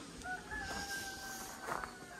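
A rooster crows faintly in the distance, one drawn-out call rising through a quiet outdoor background.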